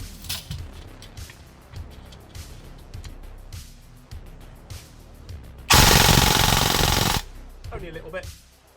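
Airsoft PKM machine gun fitted with its stiffest spring fires one loud sustained burst of rapid, slightly slower automatic shots lasting about a second and a half, set between quieter mechanical handling noises.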